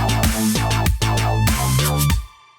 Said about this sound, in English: It's that real high pitch. It's got pitch modulation to it, but it's also got some tremolo in it.